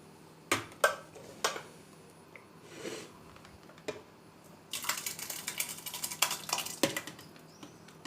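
Several sharp clinks of utensils against a cooking pot, then a stretch of wet, soft clattering as finely chopped vegetables for menemen tumble in, with a few more knocks.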